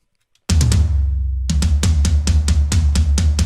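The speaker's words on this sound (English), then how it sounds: "And without processing, they sounded like this." Unprocessed toms from a song mix thump once with a long low ring, then break into a rapid roll of close, booming, evenly spaced hits.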